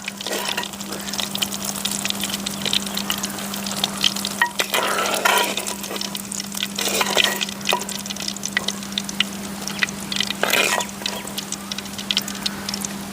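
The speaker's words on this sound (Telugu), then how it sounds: "వంకాయలు ఫ్రై అయిపోయి తీసుకుందాం వీటిని." Eggplants for stuffed eggplant curry fry steadily in hot oil, a continuous close sizzle with occasional stirring scrapes and bursts of crackle, no voices.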